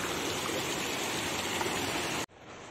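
Water from a waterfall stream rushes steadily in a dense broadband wash, cutting off abruptly near the end to a quieter outdoor background.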